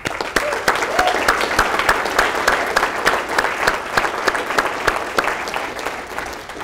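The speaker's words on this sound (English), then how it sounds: "let's give Anthony a clap" An audience at a seminar breaks into applause, a lively run of individual claps heard close and clearly, with faint voices underneath.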